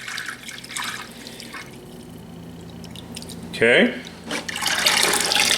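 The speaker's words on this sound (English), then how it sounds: "So we're gonna put water in." Water splashes into a container while mead is being made, ending in a steady pour whose pitch rises as the vessel fills. A voice briefly speaks near the start.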